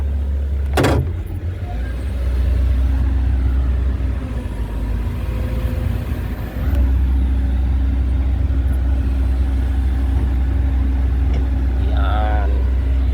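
A heavy excavator's diesel engine runs steadily with a deep low rumble while its arms are folded for loading onto a lowbed trailer, with a sharp hiss near the start and a brief dip in engine level midway.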